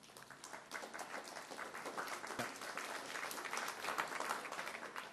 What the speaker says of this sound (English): the clapping and the cheering and the things like that